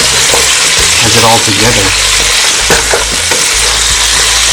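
Ingredients for an oxtail caldo sizzle loudly in a pot while being stirred, with scraping stir sounds over a constant frying hiss and a person briefly talking.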